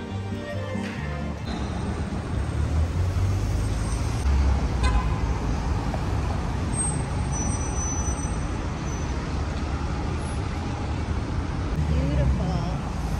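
Dense city street traffic rumbles steadily with taxis and ride-hailing cars passing close by, and a few horn toots cut in early on. Voices talk over the traffic.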